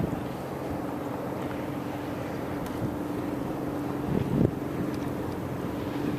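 The engine of a 1940 Lyman 16-foot yacht tender rumbles steadily under load with wind buffeting the microphone, the drone swelling slightly as the boat draws near.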